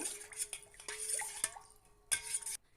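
Pani puri water being mixed in a metal vessel, with several clinks and scrapes of a spoon against the rim and a few soft liquid stirs, close and fairly quiet, no talking.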